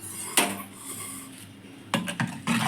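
A ladle knocks and scrapes in a cooking pot of simmering dal with drumstick leaves: one sharp clank, a quiet stretch, then a cluster of metallic scrapes and taps, close by.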